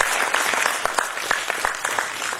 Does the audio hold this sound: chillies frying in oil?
no